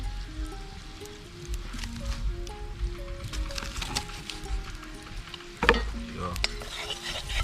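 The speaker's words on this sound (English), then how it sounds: "So melting out the butter" Butter melts and sizzles with chopped garlic in a pan at an outdoor riverside cookout, a steady close frying hiss with stirring scrapes and a few louder clatters, with breeze and a brief spoken word.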